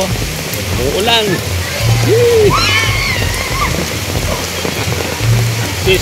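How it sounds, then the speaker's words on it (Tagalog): Steady rain patters on a surface, with children's voices and shouts rising over it now and then as they swim in the rain. "Umuulan."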